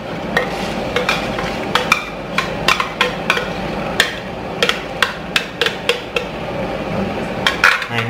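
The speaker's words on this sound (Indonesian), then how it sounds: "Nah, kalau minyaknya sudah panas, tumis si bumbu tadi." Ground spice paste for Thai-Indian style beef gulai being sautéed in hot oil in a pan, with repeated sharp metallic taps of a utensil against the pan over a steady low sizzle, no talking.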